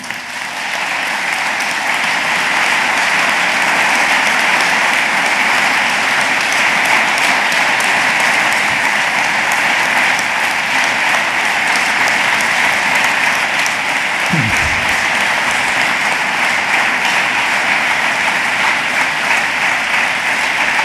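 An audience fills a hall with sustained, dense applause for security officers, steady and loud from start to finish with no voices over it.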